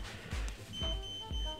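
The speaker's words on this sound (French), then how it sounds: "on entend un bip qui vous prévient que votre pression a chuté" A car's tire pressure monitoring system sounds a warning beep after a wheel sensor is removed to simulate a flat tire, a few short electronic tones over low rumbling handling noise.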